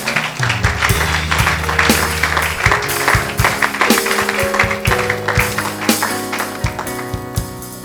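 A church congregation claps and cheers in praise, dense rhythmic handclaps and voices filling the room loudly for the whole stretch, with music tones sustained underneath.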